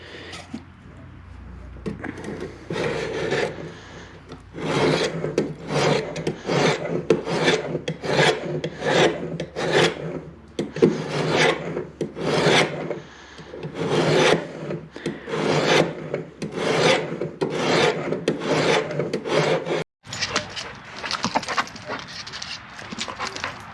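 A handmade knife's bevel is sanded with 200 grit sandpaper on an angle jig. Rhythmic back-and-forth rasping strokes repeat steadily at close range, loud and continuous, with a brief break near the end.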